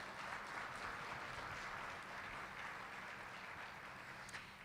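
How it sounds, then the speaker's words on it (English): An audience at a mayor's breakfast event applauds its sponsors. The clapping is steady, dense and fairly distant, holding evenly for a few seconds with no talk over it. "Can I have a round of applause for their support?"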